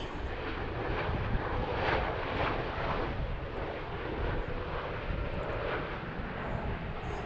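Loud airliner jet engines roar steadily at Harrisburg airport, a broad continuous rush with some wind buffeting on the microphone and no talk.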